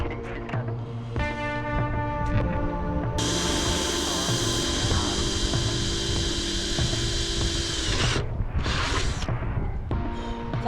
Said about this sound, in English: She's drilling.